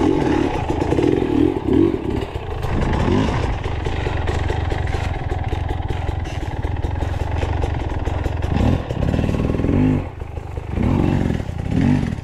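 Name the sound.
motorcycle being moved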